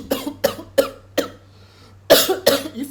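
A person deliberately forces out a series of coughs, four short sharp ones spaced evenly, a brief pause, then two louder, harsher bursts, close to the microphone.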